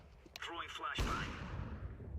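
A flashbang grenade detonates in Counter-Strike 2, a sudden loud burst with a long noisy decaying ring, preceded by brief gameplay clatter and a faint voice.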